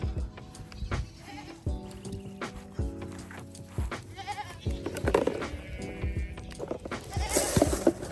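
Goats bleat repeatedly in wavering calls, some near and some farther off, amid farmyard clatter and shuffling, growing louder toward the end.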